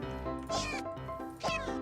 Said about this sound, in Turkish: O kediye bak nasıl saldırmaya çalışıyor.